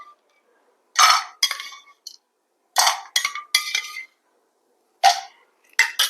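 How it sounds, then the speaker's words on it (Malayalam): Ice cubes clink into a glass in several quick bursts, bright sharp knocks with short ringing tails, close by and separated by silence. "അതിലേക്ക് നമ്മൾക്ക് രണ്ട് മൂന്ന് ഐസിൻ്റെ ക്യൂബ് ഇട്ട് കൊടുക്കാം"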